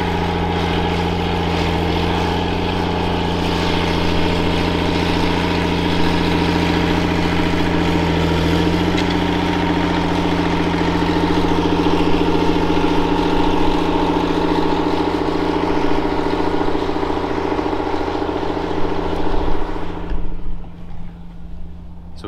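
A heavy diesel tractor engine idles with a steady, deep rumble and constant hum for a long stretch, then briefly revs and shifts near the end.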